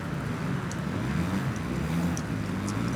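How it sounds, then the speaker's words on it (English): A motocross bike in the video game MXGP 2020 has its throttle feathered, a steady mid-level engine drone with slight rises and dips running continuously, with no talk over it. "So now I'm feathering the throttle."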